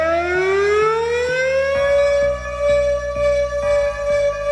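A Sirodron siren sounding loudly and close, its tone rising steeply then holding a high wail, with a pulsing mechanical chop underneath throughout.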